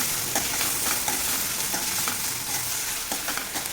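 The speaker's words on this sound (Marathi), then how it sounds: "चांगलं परतून घ्यायचं आहे कांदा आणि मिरची चांगली मऊ झाली पाहिजे अशा प्रकारे परतून घ्यायचं आहे मोठ्या गॅसवर करायचं आहे" Onion and capsicum stir-fried over a high gas flame: a loud, dense, continuous sizzle with constant stirring scrapes throughout, close up and with no talking.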